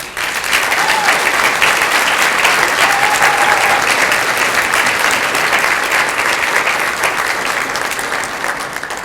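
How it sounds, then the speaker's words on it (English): Dense, sustained applause from a dinner audience at a benefit dinner, loud and even throughout as the committee members stand, with a faint voice briefly audible beneath. "please stand for a round of applause"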